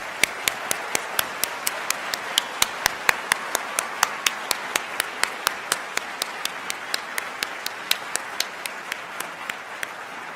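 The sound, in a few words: audience applause for the class of 2028 at white coat ceremony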